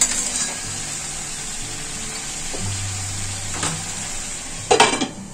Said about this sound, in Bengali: এই মশলার সাথে সবজি খুব ভালো করে কষে নেব